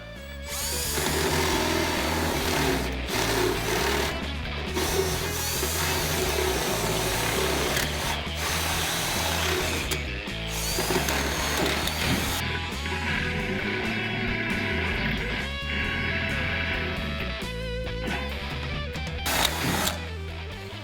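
A power drill bores with a consistent bit into a workpiece while working on a rat rod wrecker, throwing out shavings: a loud, steady motor whine with repeated short stops and restarts.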